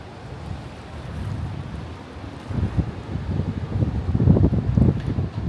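Cold wind gusting on the harbour coast at Findochty, with waves against the sea walls: a low, continuous rumble of wind buffeting the microphone that swells louder in the second half.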